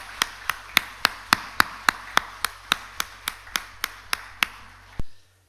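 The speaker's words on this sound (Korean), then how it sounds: "영광의 박수 올려드리겠습니다" A church congregation at a Sunday service claps in unison, about eighteen sharp, evenly spaced claps in a steady rhythm, ending with a single final clap and then quiet.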